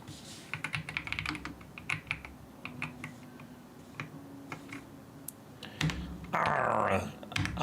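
Someone types on a 60% computer keyboard in bursts of quick, crisp key clicks with short pauses, close and fairly quiet, with a faint voice underneath near the end.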